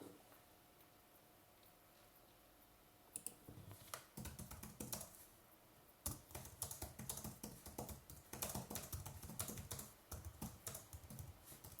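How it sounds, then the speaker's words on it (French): Someone types quickly on a computer keyboard, with bursts of rapid close clicking that start after a quiet stretch and grow denser toward the end. "j'écris sans regarder forcément le clavier"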